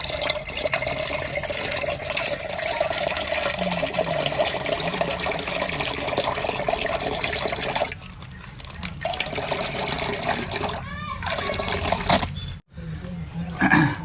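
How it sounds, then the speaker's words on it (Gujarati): Curd being poured into buttermilk in a home kitchen while cooking a desi dahi gathiya curry, a steady liquid pouring and trickling sound that runs near and continuous, briefly quieting twice before resuming. "મિત્રો, છાશ પણ લઈ લીધી છે ને હવે ઉપરથી આપણે નાખી દઈશું આ દહીં."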